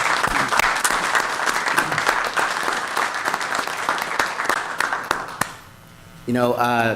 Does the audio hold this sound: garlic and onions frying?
no